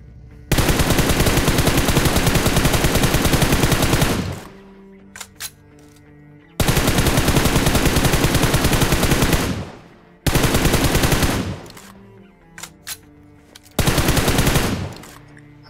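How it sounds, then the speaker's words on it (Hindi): Sustained automatic gunfire in a battle royale video game: four long, loud bursts of rapid shots, separated by quieter gaps with scattered single shots and game sounds. "मेरे को पीछे से फायरिंग की आवाज़ आती है"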